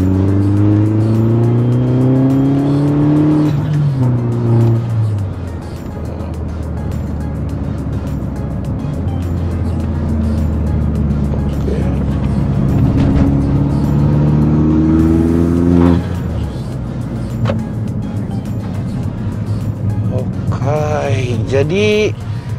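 A tuned stage 1 Mini Cooper S R56 turbo engine revs repeatedly, pitch climbing and falling through several loud pulls as the turbo spools, with a brief voice near the end.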